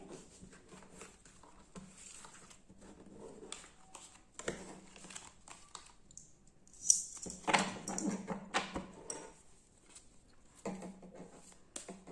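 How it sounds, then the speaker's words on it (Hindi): Tarot cards shuffled close up, a soft papery riffling and patter that comes in bursts, with a few brief pauses between them. "तो हम कार्ड को फिर से शफल कर लेंगे"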